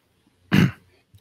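A single short, throaty cough bursts out close to the microphone, loud and rough, then quickly fades to near silence during a tabletop card game session.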